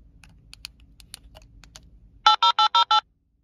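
A Baofeng UV-5R handheld radio sends its ANI push-to-talk identifier as a quick run of five loud, evenly spaced beeps, preceded by soft clicks and faint static.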